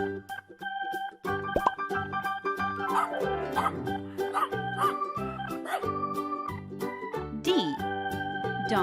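A dog barks and yips in several short bursts over a children's alphabet and phonics toy setting, mixed with bright musical tones and a little background voice.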